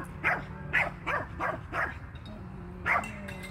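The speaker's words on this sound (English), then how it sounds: "Oh, that dog's cute." A dog barks outdoors, giving a quick run of five sharp yapping barks, then one more after a short pause, all over a steady low hum.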